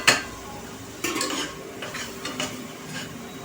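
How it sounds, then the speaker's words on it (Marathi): Spices sauté with kaleji in a pan under a soft, steady sizzle, broken by a sharp metal clink at the start and several scraping stirs of a utensil against the pan. "मसाले छान असे परतून घ्यायचे आहेत।"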